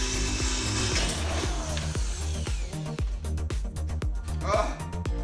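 A power drill bores into a broken, rusted bolt, grinding steadily with repeated sharp catches and chattering bursts as the bit binds and snaps off, loud and close.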